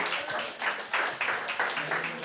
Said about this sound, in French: Applaudissez le poète jusqu'à ce qu'il s'assoie.